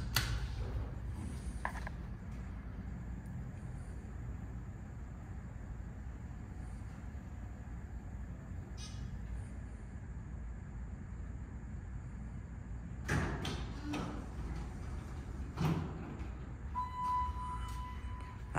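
Dover Impulse hydraulic elevator at a downtown cinema running with a steady low hum and mechanical creaks, doors sliding with a brief louder rumble near the end; no talking.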